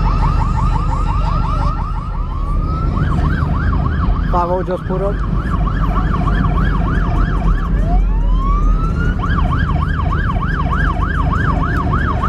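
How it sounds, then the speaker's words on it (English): A car alarm goes off at a Durham/Raleigh car meet, loud and close, cycling through rapid whooping sweeps, a brief warbling burst and rising wails in repeating patterns, with a short spoken line partway through. "The alarm went off."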